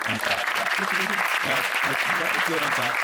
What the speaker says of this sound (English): You got to give Alex a round of applause for that.